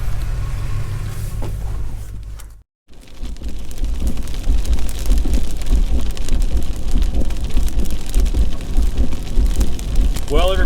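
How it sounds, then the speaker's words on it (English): Heavy rain drums on a moving vehicle during a long road drive, a dense, loud, constant hiss and patter that drops out briefly near the start and then resumes at full strength. "we've been driving through rain for about the last hour and a half"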